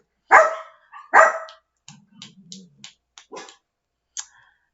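Several sharp dog barks, two loud ones close together, followed by fainter yaps and a low growl-like rumble, with brief clicks between.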